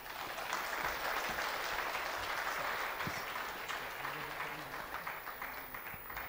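Steady, dense applause from an audience at a live-streamed corporate event, a continuous wash of many hands clapping at moderate distance with no talking over it.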